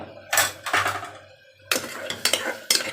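Ginger garlic paste being sautéed in a pot for a meat curry, loud clattering scrapes and knocks of a spoon against the pot in short bursts with a pause in between, no talk.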